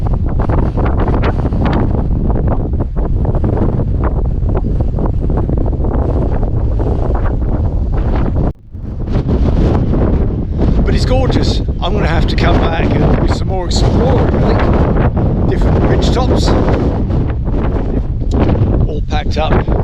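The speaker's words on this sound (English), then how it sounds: "It's still blustery." Strong blustery wind buffeting the microphone on the Dorset coast cliffs above the English Channel, a loud continuous roar and rumble that briefly drops out, with a voice speaking over it.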